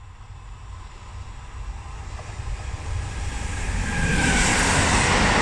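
A train passes through the station at platform 1 in Anzola Emilia, its rumble swelling from a low distant approach into a loud, close roar with rising hiss and rail noise.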